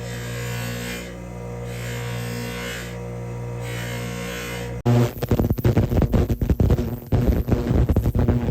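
A polishing machine gives a ring its final polish, starting as a steady whirring hum, then switching to louder, rough rubbing and rasping bursts as the ring presses against the wheel.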